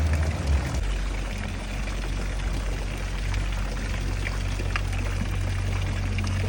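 A steady stream of water runs from a public water dispenser outdoors in a French town, a continuous splashing pour with a low hum beneath, moderately close and without talk.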